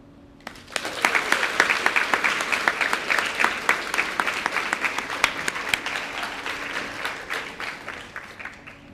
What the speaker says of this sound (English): I invite my classmates to join me in a moment of applause